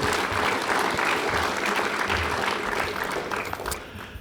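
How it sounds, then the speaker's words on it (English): An audience at a civil and construction engineering awards presentation applauds in a full, dense wash of clapping that holds steady and then tapers off toward the end. "A big round of applause for those numbers, too."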